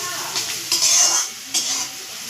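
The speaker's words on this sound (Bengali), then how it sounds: "পেঁয়াজটাকে তো লাল করে ভাজতে হবে।" Onions frying in a pan for a fish-head curry, a steady sizzle with a few louder scraping bursts of a spoon stirring against the metal.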